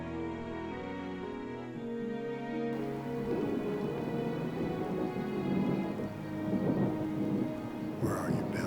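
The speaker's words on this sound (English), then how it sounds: "Looks like a storm's coming, guys." A thunderstorm rolls in as heavy rain patters steadily on surfaces and thunder rumbles low and continuous beneath it, with faint music fading out at the start.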